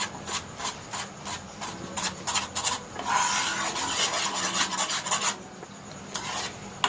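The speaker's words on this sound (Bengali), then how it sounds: "তো এই সময় খুব ভালো করে নাড়তে হবে।" A spoon stirs boiling mango pudding mixture in a pot, giving rhythmic scraping rubs in quick repeated strokes, loud and close with no talk.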